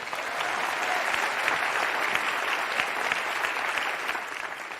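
Sustained audience applause fills a TED talk hall, a dense steady wash of many hands clapping for nearly five seconds without a break.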